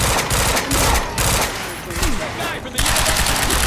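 Gunfire in the video game Quantum Break, bursts of shots and broadband blasts recurring across the moment, loud and close, mixed with game ambience and a voice in the background.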